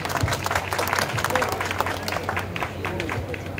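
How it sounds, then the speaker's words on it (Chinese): A crowd applauds at the opening of the 2018 Taoyuan half marathon, a city road race, with steady clapping mixed with background crowd chatter and an outdoor hum throughout. "掌声鼓励一下。"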